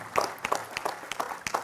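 An audience at an Indonesian talk event claps with quick, uneven, scattered hand claps, moderately close and fairly light.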